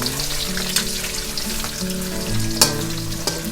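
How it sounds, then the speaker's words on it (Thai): Oil sizzles and crackles steadily as cut pork belly deep-fries in very hot oil, with a few sharper pops and spits close by. "นำหมู ที่เราหั่นไว้เรียบร้อยแล้วลงทอดค่ะ"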